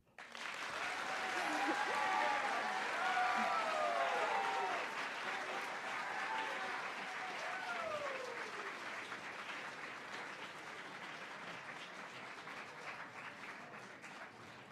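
An audience at a school advisory presentation showcase applauds a group of seniors after their student presentation, a sustained wash of clapping that swells early and slowly tapers, with whistles and cheers mixed in.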